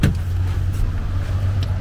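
A driverless robotaxi in China glides to a stop at the curb, its steady low motor hum running throughout, with a brief click near the start as the door locks release.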